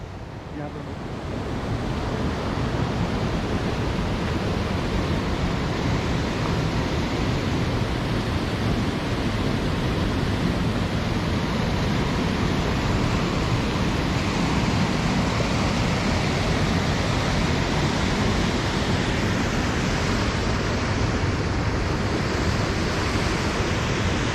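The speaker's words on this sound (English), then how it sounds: "Lovely stream flowing here, and I am walking." A mountain stream on the Kashmir Great Lakes trek rushes in a loud, steady, unbroken roar heard close by, with a touch of wind mixed in.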